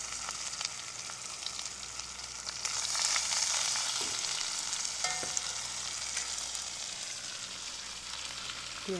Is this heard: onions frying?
yes